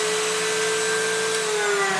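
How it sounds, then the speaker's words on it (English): A Castle TSM-12 pocket cutter cuts a low-angle pocket in wood, its motor giving a loud, steady whine close by, with the pitch sagging slightly under load near the end. "Let's cut a pocket."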